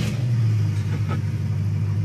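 A 1974 Dodge Charger engine runs close by with a loud, steady, deep rumble and no voices over it.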